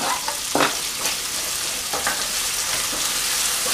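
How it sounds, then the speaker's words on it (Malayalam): Chopped onion hitting hot oil gives a steady crackling hiss, broken by a few sharper pops and spatters, with no voices. "എണ്ണ ചൂടായി. അപ്പോൾ ഇതിലേക്ക് സവാള കട്ട് ചെയ്ത് വെച്ചേക്കുന്നത് ഇട്ട് കൊടുക്കാം."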